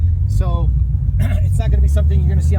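Coyote engine-swapped Ford GT500 driving slowly through a gated community, a steady low engine rumble heard from inside the car, with someone talking over it throughout.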